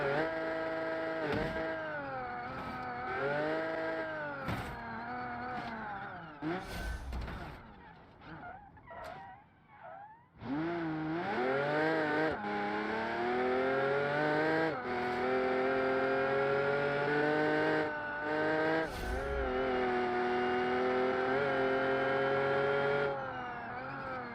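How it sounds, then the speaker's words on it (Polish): An Aston Martin V12 convertible in the BeamNG driving game roars loudly and steadily, its engine note rising and falling with revving, bumps and brief tyre squeals as the car runs over curbs. "Ale po krawężnikach to auto dobrze sobie radzi. E, pokonywanie krawężników, o."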